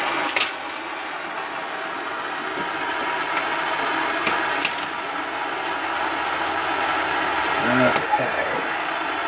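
A diesel heater fitted in a converted skoolie school bus starts up with a steady broadband whir and hum, joined by faint clicks and a low rumble near the end.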